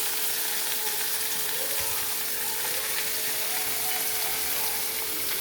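Mushrooms sizzling in a pan with curry leaves for mushroom gravy, a loud, steady hiss of frying that holds evenly throughout with no talking over it.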